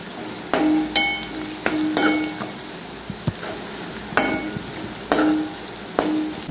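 Mustard seeds, cumin and turmeric fry in hot oil for a tempering, with a steady sizzle broken by repeated sharp metallic clinks of a spoon stirring in the pan; no voices.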